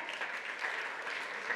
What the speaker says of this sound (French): Et on les applaudit, nos community managers, non?